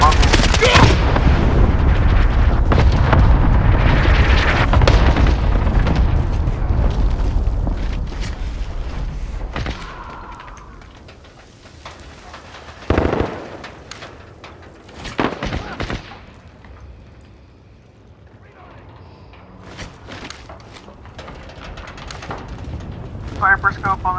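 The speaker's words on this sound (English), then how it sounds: "Allied cluster strike inbound" Call of Duty Modern Warfare cluster strike: a dense, loud barrage of blasts and gunfire rumbling continuously for several seconds, then thinning into sparse, sharp booms with quieter gaps between them.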